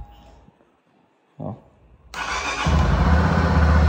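A brand-new Honda Sahara motorcycle engine cranks and catches, rising from a quiet pause into a loud, steady running roar that holds to the end, after a short thump.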